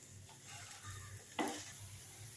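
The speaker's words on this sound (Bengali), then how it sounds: "এখানে এটা ভাজা হচ্ছে ফ্রাই প্যানে, সামান্য অল্প তেল দিয়ে, সাদা তেল দিয়ে ভাজা হচ্ছে।" Semolina-coated vegetables fry in a pan in a little white oil, giving a quiet, even sizzle with one brief louder crackle partway through.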